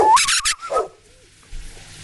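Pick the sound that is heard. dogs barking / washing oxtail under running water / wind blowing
dogs barking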